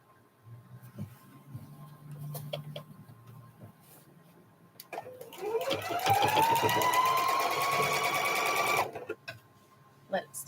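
A sewing machine stitches quilt fabric, running in a fast, rising whir of rapid needle ticks for about four seconds before stopping, close by, with a person talking before and around the run.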